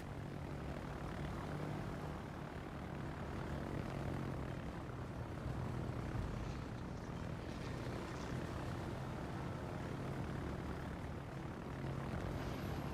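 Fighter planes from the Essex carrier droning overhead in World of Warships, a steady propeller-engine hum that stays even and moderately loud throughout, with no one talking.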